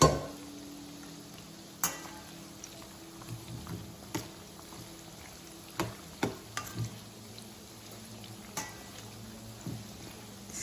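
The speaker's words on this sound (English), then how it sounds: "Just slightly move around in there so they all can fry evenly." Peanut pakoda bubble gently in hot oil while being nudged around, a low steady fry hiss broken by several sharp clicks and scrapes of a spoon against the pan.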